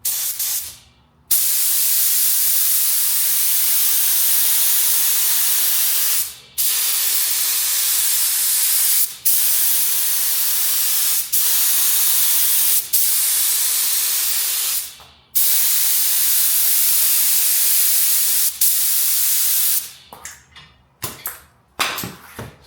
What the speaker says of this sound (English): Spray there, stick it over.